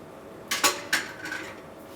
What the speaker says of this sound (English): you're going to take your eggs and you're just going to dump them right in there